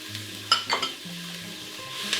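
Onions and celery frying in a pan for a meatless pot pie, a soft sizzle with a couple of clinks and scrapes of a utensil against the pan, no one talking.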